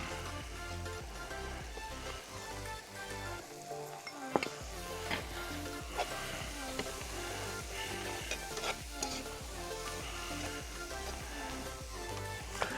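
Spinach wilting down with butter in a pan in a restaurant kitchen, a quiet continuous sizzle and occasional utensil taps, partly masked by background music, no talking.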